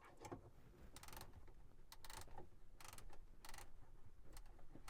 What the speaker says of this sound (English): all you're going to do is simply twist this little piece back here until it's totally tightened up